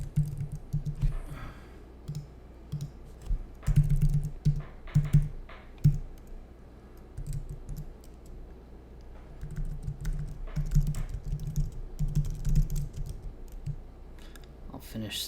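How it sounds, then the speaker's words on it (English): Fingers tap on a computer keyboard in irregular bursts and clusters of quick clicks, quiet and close, with short pauses between runs of keystrokes. "I'll finish typing when I'm done with this guy."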